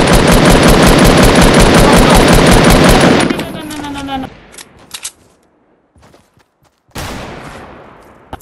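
Loud, rapid automatic gunfire in a video game for about three seconds, then fading scattered shots and a short final burst near the end; no talk.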